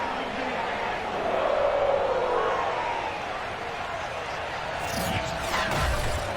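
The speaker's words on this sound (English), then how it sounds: "The enthusiasm of this Cincinnati crowd in full effect a moment ago" Stadium crowd noise from a sold-out Cincinnati game in the Madden 23 football video game, a steady roar across the clip, with a commentator talking over it and a brief clatter near the end.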